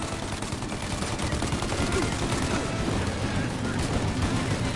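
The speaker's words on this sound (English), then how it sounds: "Shoot now while we got the chance! Stop it firing!" Gunfire in the video game Mafia Definitive Edition: a loud, continuous barrage of rapid shots that merge into a dense, unbroken roar lasting the whole stretch.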